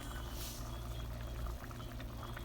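Water pours steadily into a cooking pot of soup, a continuous soft rushing splash, fairly quiet, with no voices.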